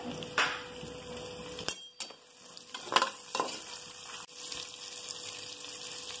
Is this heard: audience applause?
no